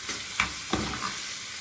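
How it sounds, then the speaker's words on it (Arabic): Kidneys fry in hot ghee with a close, steady sizzle, broken by a couple of brief stirring scrapes, with no talking. "السمنه دي بقى هي اللي هتحمرها."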